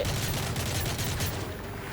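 Dense, rapid gunfire in Call of Duty: Modern Warfare 3 crackles continuously, a steady barrage of overlapping shots with no voices.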